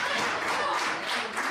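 Wrestling crowd at a women's match applauding and cheering steadily in a broad, continuous wash of clapping, with no clear peaks.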